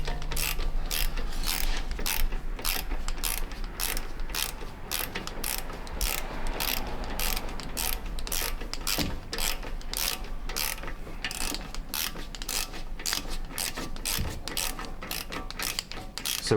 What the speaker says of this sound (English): Harry's just going to tighten up on the new caliper